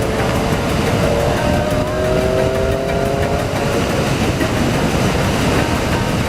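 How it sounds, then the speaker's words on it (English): Triumph Street Triple motorcycle engine pulling steadily in sixth gear at around 4,000 rpm, a loud, continuous drone with rushing wind noise and no speech. "it sounds as if it's a mid-sized engine bike"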